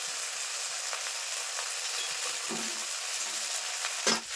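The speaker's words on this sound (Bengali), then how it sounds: "মশলা খুব ভালোভাবে কষিয়ে নিয়েছি, মশলা থেকে তেলও ছেড়ে দিয়েছি।" Spice paste of cumin and ginger with green chilli, turmeric, chilli powder and salt frying in oil in a pan for a Bengali fish curry: a steady, close hiss of sizzling with a few soft stirring scrapes, no voices.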